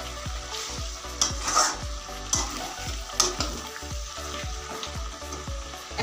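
Meat frying and being stirred in a pan over a medium flame as the oil starts to separate, a busy sizzle under rhythmic scraping strokes roughly every half second, with occasional metallic clinks, close and without talking.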